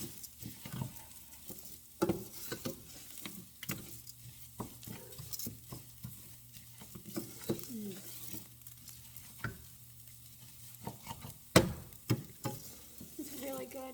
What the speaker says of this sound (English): I like to move it around and toast it a bit before I add everything else